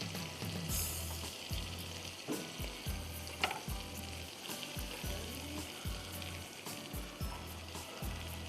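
Garlic sizzles steadily in a hot pan, with regular scraping strokes of a spoon stirring it, close and continuous, with no talking.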